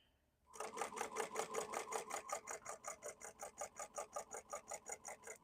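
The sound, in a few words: sewing machine basting with long stitch length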